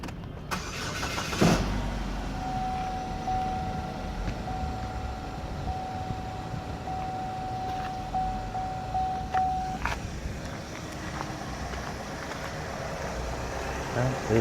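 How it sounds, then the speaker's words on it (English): A 2016 GMC Terrain SLE with 34,000 miles and an Ecotec four-cylinder engine cranks and catches after a second or so, then settles into a smooth, steady idle with a faint whine heard for several seconds. "We'll start it up, let you hear how it sounds."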